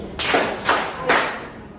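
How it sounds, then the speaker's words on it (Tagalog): A group of students in a classroom claps in unison three times, each sharp burst evenly spaced about half a second apart, moderately loud with no talking. "Maaari ba natin bigyan ng 3 palakpak ang ating mga sarili?"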